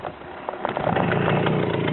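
A small Romet motorcycle engine buzzes and rises on the throttle, a rough, continuous near drone building in loudness over two seconds, ridden by a beginner on half clutch.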